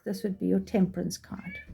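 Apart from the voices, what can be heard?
cat meowing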